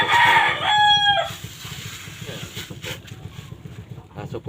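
A broiler rooster crows loudly nearby, then gives softer clucks, and someone talks over the bird.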